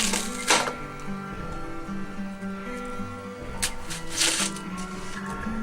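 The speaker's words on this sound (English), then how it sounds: "Let's get a bit of this onion cut off of here" A knife cuts through an onion for a poor man's steak, giving a few crisp, sharp chops spaced a few seconds apart over a low, steady kitchen background.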